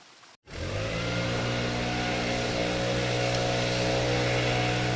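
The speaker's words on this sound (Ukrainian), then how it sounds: "Це двірник здуває листя." A janitor's leaf blower blows leaves. After a brief gap, its motor starts with a loud, steady, humming roar that runs without a break.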